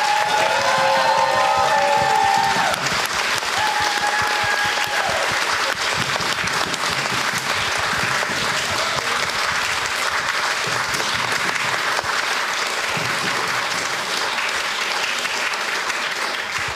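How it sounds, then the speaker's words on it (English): Audience at a talk on dissent and separation of religion and state breaking into long, loud, sustained applause, a dense wall of clapping that holds steady throughout, with a brief voice at the start. "very warm applause"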